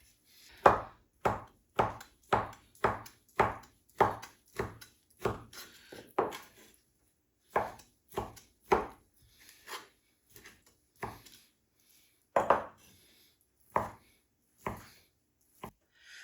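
Vegetables for chicken soup are chopped with a knife on a cutting board, a series of sharp, distinct knocks in an uneven rhythm, close and clear, with brief pauses between bursts.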